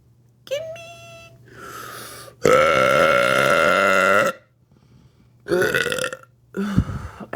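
A person burps while trying to form a name, producing several long, loud, voiced belches in separate bursts, one sustained for nearly two seconds, with brief vocal sounds between them.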